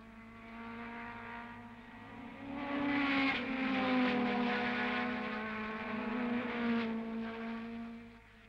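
A 1961 Cooper racing car passing on a track, a steady droning engine note that swells louder midway and then holds at a distance.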